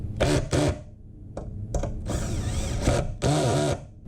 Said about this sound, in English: put my 3 screws in and tighten them down